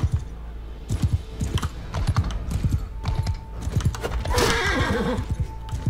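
In the video game Mount & Blade II: Bannerlord, a horse gallops during a battle, with loud, rapid clip-clopping hooves. A neigh rises near the end, and no one talks over it.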